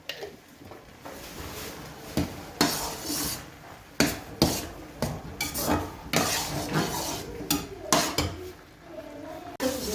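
Carrot halwa with ghee, sugar and cardamom is roasted and stirred in a pan. A spoon scrapes and knocks against the metal in repeated close strokes over a faint sizzle.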